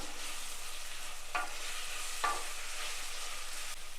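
Dried prawns stirred with tomatoes in a hot pan for a Kerala raw mango curry, a soft continuous sizzle broken by a couple of sharp spoon scrapes against the pan, close and fairly quiet.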